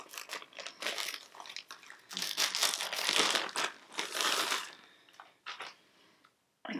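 Plastic packaging around an Amazon wig crinkles and crackles loudly and close, in bursts of rustling and tearing that fade into brief quiet near the end.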